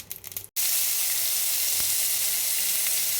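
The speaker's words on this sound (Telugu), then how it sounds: "ఆవాలు మూకుడు వేడి చేసి నూనె వేయాలి ఆవాలు వేడిద్దాం చక్కగా వేయించాలి" Mustard seeds fry in hot oil in a pan, a loud steady sizzle and crackle that bursts in after a brief pause and carries on to the end.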